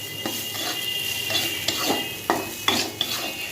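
Fenugreek leaves are stir-fried in a pan with a steady sizzle, broken by several sharp scrapes and clinks of a spatula against the metal.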